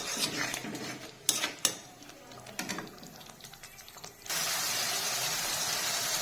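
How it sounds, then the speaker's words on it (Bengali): A metal spatula stirring spices with salt and turmeric in a pan, heard as intermittent scraping clinks and knocks that give way to a steady, louder sizzling hiss for the last couple of seconds. "লবণ, হলুদ গুঁড়ো, সমস্ত কিছু দিয়ে খুন্তি দিয়ে এইভাবে মশলা মিক্স করে নেব।"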